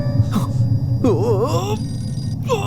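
In a Tamil-dubbed movie scene, a telephone rings with a repeating electronic tone while a voice talks and groans over it, the ringing and the voice fairly loud and close.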